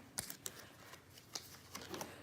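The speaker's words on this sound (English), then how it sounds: "Don't want cards missing in the deck when you're shuffling." A deck of tarot cards is being shuffled, with a handful of short, crisp riffling snaps and taps, close and quiet.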